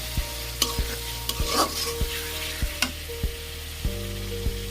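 Beef being stirred with ground coriander and other spices in a pan, with a steady frying sizzle underneath and repeated scraping strokes of a spoon against the pan, close and fairly loud.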